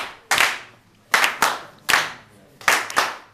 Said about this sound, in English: That's a traditional Rwandan clap. It's a traditional Rwandan rhythm, and it's infectious.